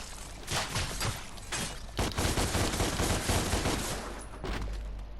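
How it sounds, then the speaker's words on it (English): Charged pistols in the action game DmC: Devil May Cry unleash a dense, continuous volley of fire-infused bullets, rapid overlapping shots forming a loud, sustained fusillade with crackling bursts throughout. "the pistols can be charged, firing a series of multiple fire-infused bullets that can hit many enemies"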